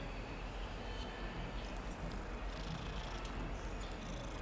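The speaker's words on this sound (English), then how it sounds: "Meow." A cat in the Hogwarts Legacy video game purrs in a steady, continuous rumble that holds evenly for several seconds with no talking.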